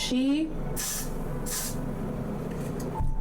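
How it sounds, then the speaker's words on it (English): Two short hissing bursts of Got To Be hairspray over a steady background hum, with a brief vocal sound at the start. "I'm trying this Got To Be spray because I'm trying to glue down my eyebrows"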